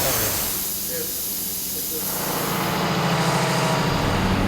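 Air hisses steadily out of a truck valve as it drains, a loud, continuous rushing spray that swells toward the end, with someone talking over it.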